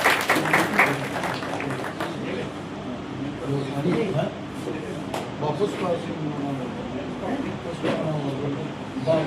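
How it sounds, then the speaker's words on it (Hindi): A crowd at a village public ceremony, gathered for a square's inauguration and an honouring, claps in welcome. Steady, moderately loud applause runs throughout, mixed with a voice speaking over it. "ताली बजाकर स्वागत करें।"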